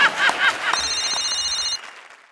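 A telephone rings with a bright, trilling electronic bell for about a second, following brief talk, then stops.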